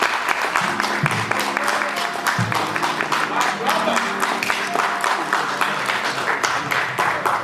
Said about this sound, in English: stand to your feet and give Mr. Krista James Journey a round